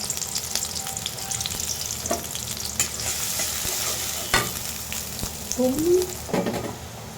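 Onions and green chilies fry in hot oil for a hilsa fish curry, a continuous close crackle broken by stirring scrapes and clanks of a spoon against the pan, with a brief faint tonal squeak.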